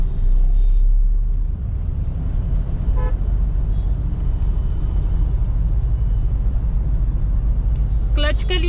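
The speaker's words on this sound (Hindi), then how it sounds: "सेकंड गियर 20 से ऊपर गई, मैंने डाल दिया थर्ड गियर।" A Mahindra Scorpio drives in third gear with a steady low engine and road rumble from inside the cabin, a short horn toot near the start and more honks at the end.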